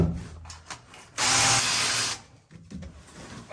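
A wire wheel grinds rust off the underside of a 2G DSM car in one loud, steady burst of about a second, with quieter handling noises before and after.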